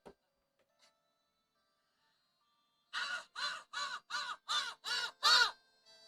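A voice imitates a crow, giving seven loud, rhythmic caws in quick succession after a few seconds of near silence.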